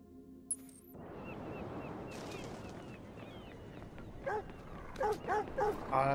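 A dog in Watch Dogs 2 gives a few short barks and yips over a low background hum, with softer whimpers mixed in, the barks growing clearer toward the end.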